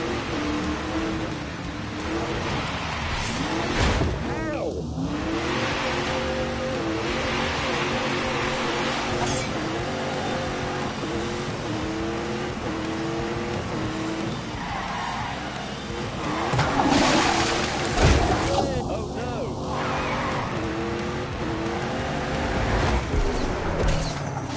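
Car engine at full throttle, roaring continuously and loudly for the whole stretch with surging revs and brief tyre-squeal-like bursts, recorded during a motoring show test drive.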